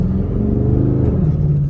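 Chevrolet Camaro SS V8 pulling away down a street, a loud close low engine rumble with a brief rise in revs, then settling into a steady drone.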